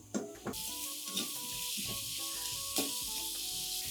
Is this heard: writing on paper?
no